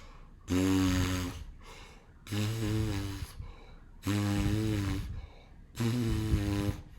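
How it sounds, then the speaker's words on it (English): Tuba player buzzing the lips for embouchure practice, four sustained low buzzes of about a second each, evenly spaced with breaths between, close and clear. "if you're struggling with getting a consistent and instant buzz, then practice that"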